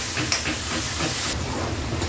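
Onions and tomatoes sautéing in a hot pan give a loud, steady, close hiss that barely changes throughout, with no voices.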